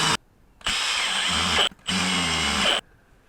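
A power tool tightens bolts on a Nicolai Geometron gearbox mountain bike during a rebuild, running in two loud, steady bursts of about a second each with a short pause between them.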